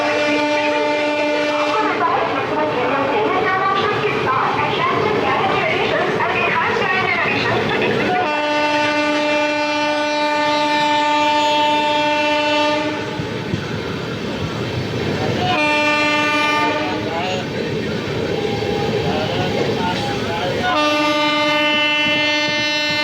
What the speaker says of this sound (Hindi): फिर से रफ्तार बना ली भाई गाड़ी ने।